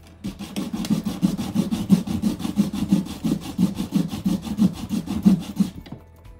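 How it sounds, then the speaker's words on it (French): Sanding by hand, with a steady run of quick, rhythmic abrasive rubbing strokes, close and moderately loud, that stops abruptly at the end. "je suis désolée si la caméra bouge légèrement quand je ponce"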